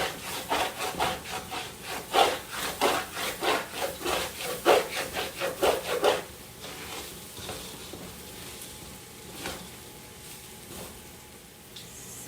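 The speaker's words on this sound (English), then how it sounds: "You want to make sure that you keep scraping the bottom of the pot." Rhythmic scraping and stirring of rice in a pot while it parches for Guyanese veggie fried rice, a steady run of close strokes that thins into a few scattered scrapes.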